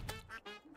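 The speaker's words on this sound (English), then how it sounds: "Quack, quack, quack, quack, quack, quack, quack." Duck quacking in the Terraria video game, three short nasal quacks in quick succession, close and fairly soft, with no voices over them.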